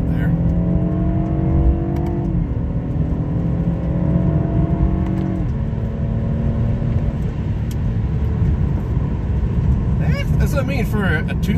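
A BMW 328i with a 2-liter engine accelerating hard, engine pitch climbing through gear changes with a drop at each shift, heard from inside the car.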